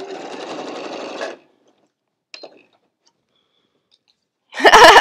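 A sewing machine stitches fabric with a backstitch while a drawstring pouch is sewn, a close rapid mechanical whir for just over a second, then a brief tick, silence, and a louder burst of stitching at the end.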